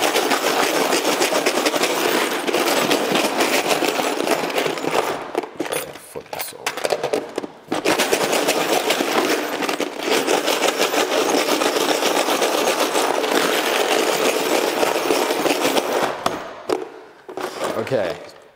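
An iPhone X rattles and scrapes inside a container full of rusty razor blades, bolts and screws, shaken in loud, dense bursts with a few short breaks before fading out.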